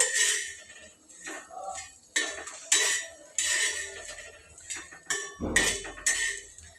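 Cooked bitter gourd fry is scraped from a pan onto a plate, with a run of sharp metallic clinks and knocks from a spoon against the pan and dish, close and irregular, with no talking.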